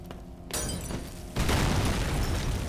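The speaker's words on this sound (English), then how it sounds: "Man, that explosion is so powerful." A nitroglycerin explosion in the video game Penumbra: Requiem erupts in two stages, a sudden loud burst followed by a heavier, sustained booming roar that fills the soundscape.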